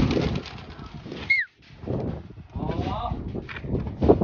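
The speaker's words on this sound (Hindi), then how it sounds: "तो गाइस, ये है हमारे शादाब भाई के कबूतर" Pigeons kept by a fancier in Okhla, Delhi, with soft cooing, rustling and a brief burst of wing flapping close by, amid steady background noise.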